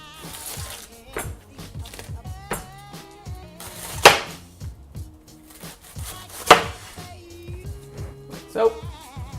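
A big kitchen knife slices cabbage thin on a cutting board, a steady run of close, crisp chops with a few sharper knocks, sounding with little talk.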